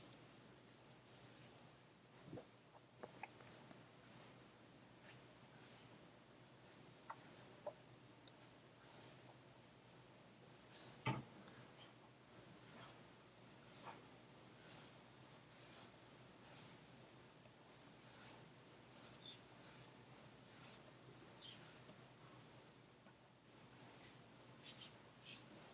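A pencil sketches lines on paper in short, repeated scratchy strokes, faint and close, with small pauses between groups of strokes.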